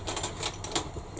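A rotary cutter slices through fabric in short, crisp, rhythmic strokes during bag making, close and fairly quiet, about a dozen quick scratchy bursts with no talking.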